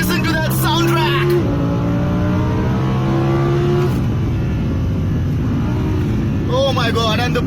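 A 2017 Audi R8 V10 Plus V10 engine roars loudly from inside while driving, revving through rising pitches and shifts before easing off, with excited talk from the driver at the start and again near the end.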